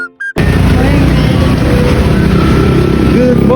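A Kawasaki 109 motorcycle cuts in after a brief quiet moment, then rides on as a loud, steady roar of engine and wind rush.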